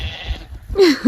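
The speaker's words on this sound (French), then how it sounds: "Regarde, les moutons" Sheep bleating at a family homestead by Lake Titicaca in Peru: after some low background rumble and a brief quiet spell, two short, fairly close bleats ring out near the end, the second cut off as it starts.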